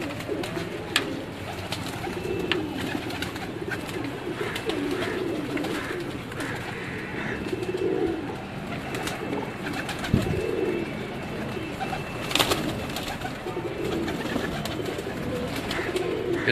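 Pigeons on a rooftop in Sialkot coo steadily in low, rounded phrases, several birds overlapping near and far, with faint rustling and occasional sharp clicks or wingbeats against a constant outdoor background.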